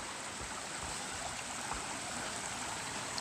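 A river along the Pacific Crest Trail in the Cascades rushes in a steady, constant wash of flowing water, close by with no voices.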